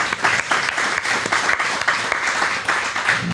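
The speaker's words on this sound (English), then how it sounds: "How about a round of applause for Melissa?" A live audience at Funhouse Pizza bursts into a steady round of applause and clapping for guest Melissa, a dense wash of hands from a small crowd, sustained throughout with no break.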